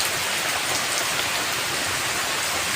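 Steady rain falling on surfaces outside a house, a dense, even hiss of drops with no pauses, fairly loud and close, with no voices.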